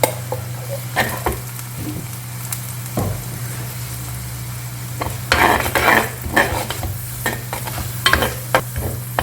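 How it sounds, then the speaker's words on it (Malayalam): Coconut masala paste frying in hot oil in a pan for a fish curry, with a steady close sizzle under a low hum and repeated scraping stirs that come in bursts. "ഈ അരപ്പ് എണ്ണയിൽ നന്നായിട്ടൊന്ന് വഴന്ന് വരണം"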